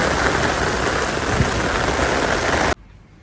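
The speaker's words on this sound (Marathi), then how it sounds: "पाऊस फुल जोरात आहे." Dense, steady downpour hisses loudly and evenly for a few seconds, then cuts off abruptly to near silence.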